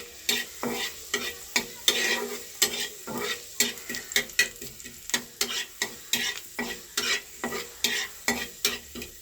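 Panch phoron, dried red chili and garlic fry in hot oil, a steady close sizzle broken by quick regular scrapes and taps of a spatula stirring the pan, with no talking.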